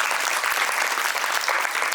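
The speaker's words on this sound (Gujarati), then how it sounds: "એના માટે ખૂબ તાળીઓ થઈ જાય." A school audience applauds children's speeches at a Gandhi remembrance day event, a brief burst of steady, dense clapping from many hands, moderately loud and without talk.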